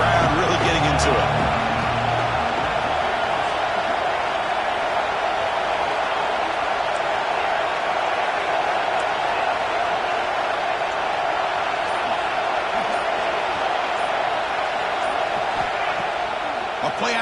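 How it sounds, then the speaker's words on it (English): A football stadium crowd roars on third down, a dense, sustained wash of cheering that holds steady and loud throughout, with a few faint thumps near the start. "Third down and the crowd really getting into it."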